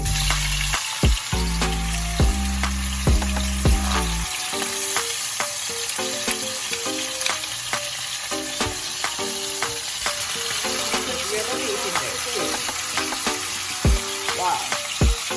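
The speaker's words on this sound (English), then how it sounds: "Then I'll drop the beef in there." Beef frying with garlic in a hot pan gives a steady, close sizzle throughout, with stirring scrapes and occasional clinks.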